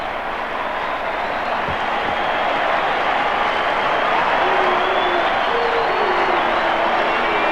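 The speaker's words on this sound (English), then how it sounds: "A standing ovation for Alan Border and his team." Packed crowd at the MCG in the 1980s giving a standing ovation after a one-day cricket final between Australia and the West Indies, a dense continuous roar of applause and cheering that swells steadily throughout.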